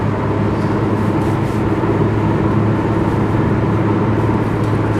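A 2003 Mitsubishi Eclipse cruising along a road, its steady engine drone and tire roar holding constant and fairly loud from inside the cabin, with no speech.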